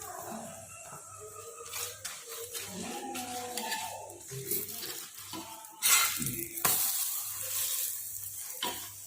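A paratha sizzles in ghee on a hot tawa in a home kitchen. A soft, steady frying hiss runs underneath, broken by scattered clinks and scraping utensil sounds and a couple of louder clatters near the middle.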